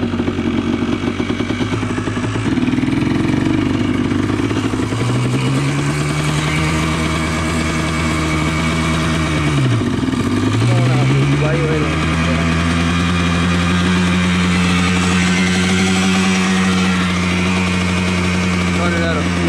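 A Yamaha Blaster two-stroke engine idles erratically as it runs out of fuel, its steady drone surging and dipping sharply near the middle before recovering, loud and close throughout the clip.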